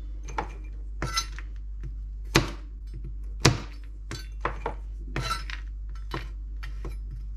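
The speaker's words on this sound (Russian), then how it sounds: "Рубим орехи ножом." A knife chops nuts on a board with sharp, irregular knocks and clicks, about a dozen close, crisp strikes spread over several seconds in a quiet kitchen.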